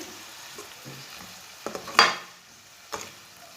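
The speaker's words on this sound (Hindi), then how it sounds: "अभी इसे 3 मिनट के लिए भून लेंगे।" Whole spices, including whole cumin, stirred over medium heat in a pan: a soft continuous sizzle broken by a few sharp spoon scrapes and knocks against the metal, close and fairly quiet, with no talking.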